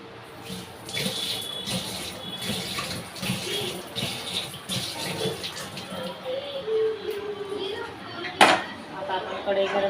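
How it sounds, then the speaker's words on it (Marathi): A kadhai is rinsed under running water in a kitchen sink, with a steady splashing stream and occasional clinks of metal, heard close. "आता आपण कढई थोडीशी धुवून घेऊ"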